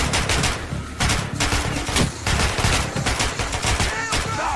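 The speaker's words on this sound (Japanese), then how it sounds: "30発撃ったのに一人も倒せてないぞ" Rapid machine gun fire in the video game Metro Last Light, loud bursts of repeated shots with short pauses between them, close and dominant throughout.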